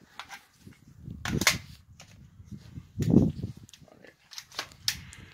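Shots at an outdoor shooting range from a Saint Victor AR15 rifle and a 1911 pistol: two or three sharp, booming reports spaced a couple of seconds apart, muffled and somewhat distant, among faint handling noise.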